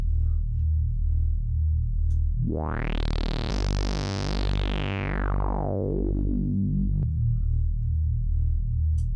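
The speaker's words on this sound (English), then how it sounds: "this bass sound is used in the breakdown as a layer underneath the pianos" A deep, buzzy detuned saw-wave synth bass pulses in steady repeated notes, its tone brightening into a sweeping filter rise, then darkening again.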